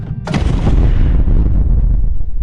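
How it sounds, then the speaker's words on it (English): A massive explosion aboard the ship the Ravager in a fantasy setting: a sudden sharp blast followed by a long, loud, rumbling roar that fills the rest of the moment. "You watch as a massive explosion happens."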